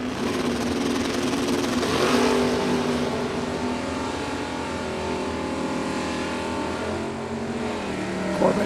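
Engines roar at a drag strip as a 1963 Corvette and a 1968 Camaro run side by side, a sustained, fairly loud mechanical drone heard from a distance without commentary.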